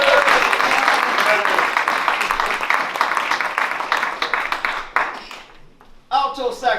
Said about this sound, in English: round of applause for Mr. Charlie Siegler.